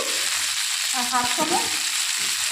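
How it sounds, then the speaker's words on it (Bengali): Cut potatoes hit hot oil in a pan and sizzle steadily, with a brief clatter of stirring near the middle, close and continuous. "একটু ভাজা ভাজা হয়ে যাওয়ার পরে দিয়ে দেবো কেটে রাখা আলু"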